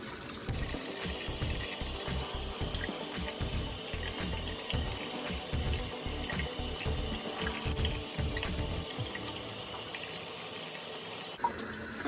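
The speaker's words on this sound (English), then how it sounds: "Now I'm going to rinse this out before I put in the deep conditioner." A kitchen tap runs steadily to rinse the curly hair of an American Girl doll, a close, continuous splashing stream with no speech.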